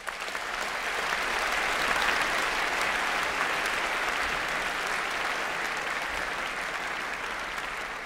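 A large graduation audience at a postgraduate ceremony gives steady, sustained applause for the graduates, a dense even roar of clapping from many hands.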